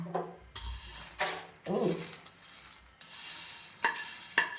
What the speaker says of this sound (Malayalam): വെജിറ്റബിൾസ് മാത്രമേ ഉള്ളൂ കേട്ടോ മാഗി ചേർക്കണം മുമ്പേ ഒന്ന് ഇളക്കി കൊടുക്കണം